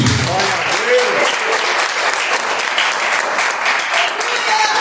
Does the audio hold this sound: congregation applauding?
yes